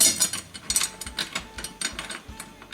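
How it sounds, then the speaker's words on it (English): A drum key tightens a drum lug in a quick series of close, small metallic clicks and ratcheting turns, irregular but repeated, with no speech. "I'm going to take my drum key and I'm going to tighten it down just until the lug touches the rim"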